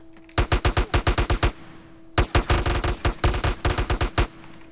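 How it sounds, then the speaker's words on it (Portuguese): Rapid automatic gunfire in the DayZ video game rattles out in two loud, close bursts of evenly spaced shots, separated by a short pause, with no talking. "Tô ouvindo tiro"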